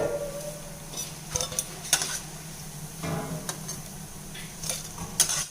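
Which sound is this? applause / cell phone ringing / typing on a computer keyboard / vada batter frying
vada batter frying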